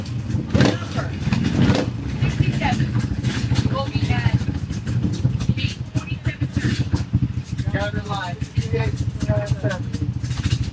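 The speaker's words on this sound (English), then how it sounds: "Just going to let you guys enjoy the sounds of a couple 2-strokes here." Two-stroke motorcycle engines rattle and rev nearby at a scramble race, their buzzy blips rising and falling constantly, with voices talking underneath.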